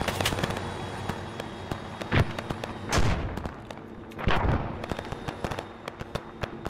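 Arma 3 video game combat with rocket launches and gunfire, including several loud, deep blasts and whooshes among frequent sharp cracks of shots over steady battlefield noise.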